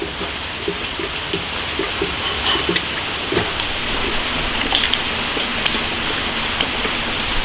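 Steady rain falls on a cool early-autumn day, a dense even patter with scattered louder drops striking nearby surfaces, continuous and moderately loud with no talk.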